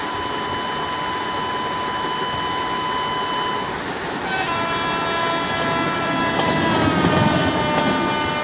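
A locomotive horn sounds in Indian Train Simulator as the train runs toward Howrah. The loud, sustained, multi-toned blast holds steady, with a slight shift in pitch midway, over continuous rolling rail noise.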